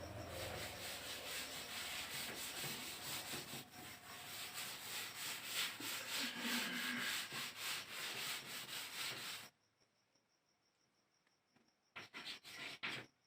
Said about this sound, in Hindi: मैं इसको रब करता हूँ